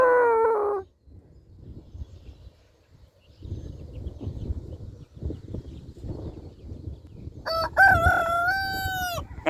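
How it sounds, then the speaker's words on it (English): A farmyard rooster crows loudly and close by, a short call at the start and a long cock-a-doodle-doo near the end, with rustling and faint outdoor noise between. "See if I can get him to crow again."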